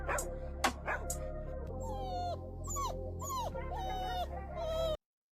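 A dog close by whimpers and yips in a run of high, whiny cries with a couple of sharp barks. The sound stops abruptly.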